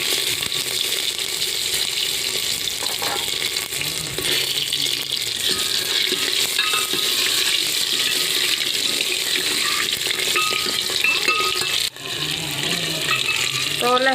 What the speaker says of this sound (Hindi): अब हम लहसुन के फ्राई कर लेती हूँ।